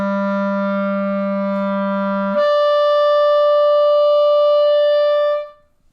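A clarinet holds a low A, then the register key jumps it up to a bright high E that sustains for about three seconds before ending, a clean two-note slur played alone.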